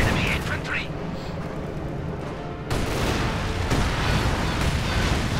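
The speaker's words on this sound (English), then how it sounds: "And we're seeing incendiary artillery being called in here by Nassa." Incendiary artillery barrage in Company of Heroes 2, a rumbling roar of explosions and fire that swells louder partway through, heard under a voice commenting over the battle.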